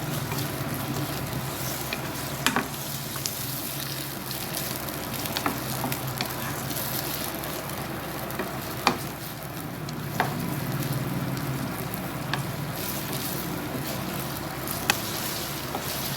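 Minced meat frying in a pan as it cooks until its colour changes, giving a steady close sizzle with occasional sharp crackles and pops throughout.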